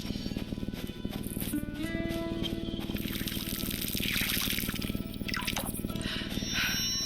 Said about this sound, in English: I watered the tomatoes as well